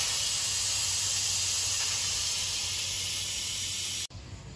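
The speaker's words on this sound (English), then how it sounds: "so let's quick release the pressure." An Instant Pot vents its pressure in a quick release, giving a loud, steady, close hiss of escaping steam that holds evenly for about four seconds and then cuts off abruptly, leaving a quieter room tone.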